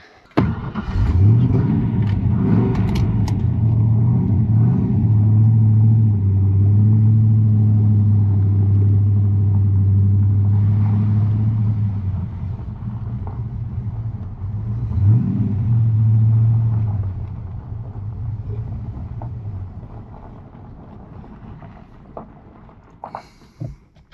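A wrecked SN95 Ford Mustang, used as a test mule, starts and idles with a steady mid-pitched rumble, then revs and moves off under power, the engine note rising and falling before easing down, close to the listener.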